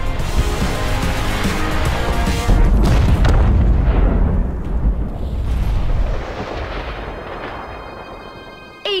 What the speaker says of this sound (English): That's it, Agent. Shoot that rocket!